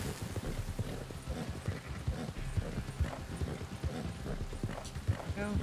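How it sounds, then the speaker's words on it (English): A horse in a video game gallops in a fast, rhythmic clip-clop of hooves, fairly quiet and steady throughout, with a voice speaking briefly over the hoofbeats. "Go, horsey, go."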